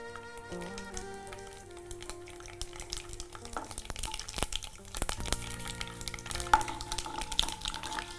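Mustard seeds frying in heated oil in a pan, crackling and spluttering in scattered pops that grow busier and louder toward the end, with background music playing throughout.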